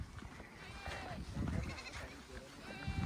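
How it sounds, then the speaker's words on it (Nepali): Sheep bleat several times on a Nepali mountain trail, calls rising over close voices of people talking along the path. "भेडाहरू अब आइहाल्छ"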